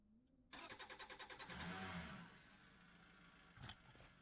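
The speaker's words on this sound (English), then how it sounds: "Maybe crank the engine so we have a better idea of the sound levels." A car engine in a video game cranks with a rapid, even run of starter pulses, then catches and roars briefly before settling to a steady idle, with a short blip of revs near the end.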